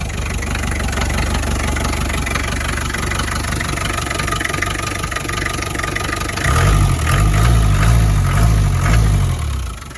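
A 1986 Land Rover 90 with a naturally aspirated diesel engine idles steadily after startup, a close, continuous low rumble that swells louder and deeper partway through as the throttle is briefly opened, then settles.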